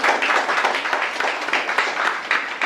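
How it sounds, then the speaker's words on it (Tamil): Sustained applause from an audience at a Women's Day stage event, dense steady clapping throughout without pause. "அதுக்கே ஒரு பெரிய கைதட்டு கொடுக்கலாம்."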